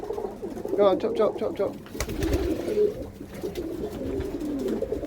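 Pigeons cooing inside a loft, soft repeated coos mixed with flapping and rustling, while someone talks over them close by.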